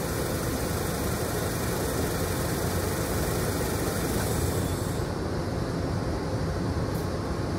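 A car engine idles during a coolant drain-and-fill service, giving a constant, loud, close rumble that holds steady throughout with no voices.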